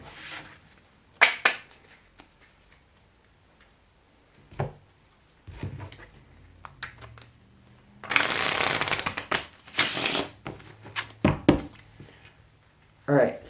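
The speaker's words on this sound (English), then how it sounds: "I'm going to shuffle these halves together." Playing cards riffle together in several quick, crisp bursts of fluttering snaps, with a few soft taps and handling noises between them, close and clear, while a person talks briefly.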